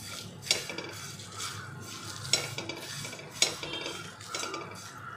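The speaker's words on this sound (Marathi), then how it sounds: "ह्याच्यामध्ये आता मी 2 बेडगी मिरच्या घेतलेल्या आहे सुक्या, ह्यासुद्धा आपल्याला याच्यामध्ये परतून घ्यायच्या आहेत" Two dry Byadgi red chillies being sautéed in a pan, a quiet sizzle broken by a few sharp clinks of a spoon stirring against the metal at regular intervals.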